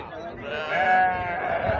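Goats bleating in a crowded livestock pen at a Sunday cattle fair in Taquaritinga do Norte, Pernambuco, a wavering bleat rising above the background over about a second, with voices and market bustle around it.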